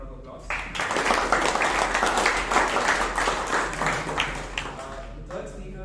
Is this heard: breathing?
no